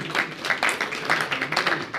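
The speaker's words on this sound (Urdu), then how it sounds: "تو بھرپور تالیاں عقیل دانش صاحب کے لیے ہونی چاہیے۔" Applause for poet Aqeel Danish at a poetry gathering in Willesden Green, London, a steady, moderately loud patter of audience clapping throughout.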